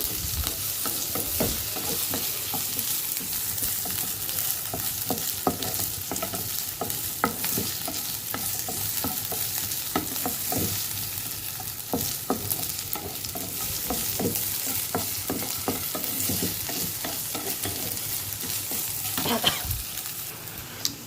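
Broccoli rice fries in a pan with a continuous, close sizzle, broken by frequent scraping and clicking stirs throughout, and no talking.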